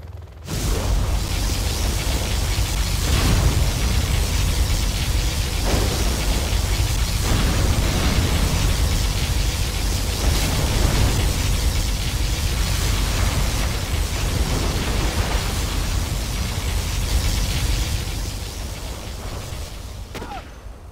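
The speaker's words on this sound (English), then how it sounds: "Particle cannon activated." Continuous roaring blasts from a particle cannon in Command & Conquer: Generals, a dense wall of rumbling explosive noise with repeated surges, sustained for about twenty seconds before cutting off.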